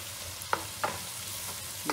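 Onion sautéing in a pan for egg biryani with ginger-garlic paste, a few soft stirring scrapes and light sizzles spaced apart over a quiet, low kitchen background.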